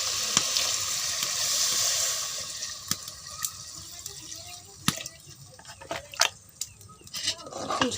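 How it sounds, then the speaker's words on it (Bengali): Broth poured into a pan of frying pangas fish and potato curry, a broad hiss and sizzle swelling then settling, with scattered clinks of a utensil against the pan. "মাছটা আলুটা দিয়ে মিশিয়ে নেব আর এখন ঝোল দিয়ে দেব।"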